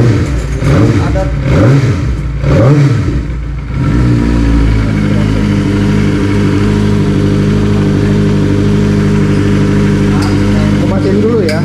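A Kawasaki ZX25R motorcycle fitted with upgraded ignition revs in a few loud, rising and falling bursts, then settles into a steady, close idle.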